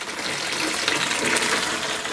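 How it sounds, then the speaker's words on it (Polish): Steady broadband rush of water pouring into a container, about 20 litres, continuous and fairly close, with no talking. "Właśnie leje się już woda."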